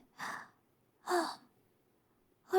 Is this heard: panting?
yes